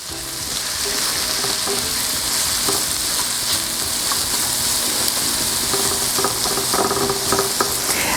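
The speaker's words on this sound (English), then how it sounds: "So we're just going to get them all coated in the butter. We're going to let them start browning, cooking down a bit." Onions browning in butter in a pan for steak and cheese sliders, a loud continuous sizzle with scraping stirring strokes growing busier toward the end, no talking.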